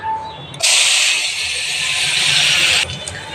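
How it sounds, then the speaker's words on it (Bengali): Bitter gourd dropped into hot oil: a sudden loud, bright hiss bursts in and holds steadily for about two seconds before cutting off sharply, with quieter background around it. "প্রথমে আমি করলাটাকে মেখে তারপর তেলে দিয়ে দিই।"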